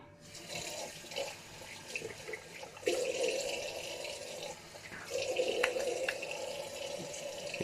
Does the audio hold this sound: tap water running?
yes